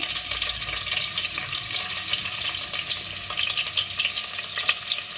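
Cumin, mustard seeds, split dried red chillies and cut onion frying in hot oil for a Rayalaseema hyacinth bean curry, a dense continuous sizzle close up, steady and fairly loud with no talking.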